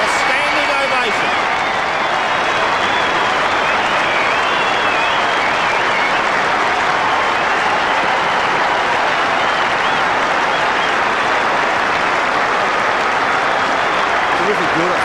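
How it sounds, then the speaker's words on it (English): A packed football stadium crowd at a 1995 AFL match between Fremantle and the Swans gives a standing ovation, a loud, dense and sustained roar of clapping and cheering that fills the whole stretch without a break. "A standing ovation."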